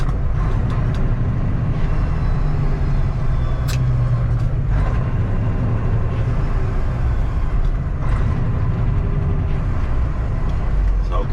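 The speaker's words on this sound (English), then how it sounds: "I'm gonna try to gear downshift, and then once I downshift" A dump truck with an 8LL transmission rolls toward a stoplight while downshifting, a steady loud diesel drone filling the cab with brief airy hisses and gear shifts scattered through.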